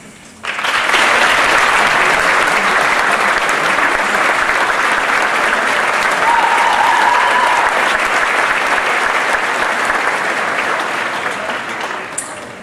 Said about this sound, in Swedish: sen tar ni emot folkets jubel